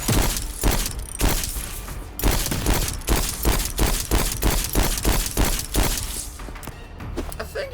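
Rifle and pistol fire from a sci-fi train-defence game, with a rapid run of sharp broadband shots. The reports come in bursts for most of the stretch, loud and close, with no talk over them.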